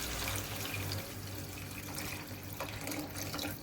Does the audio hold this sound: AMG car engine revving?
no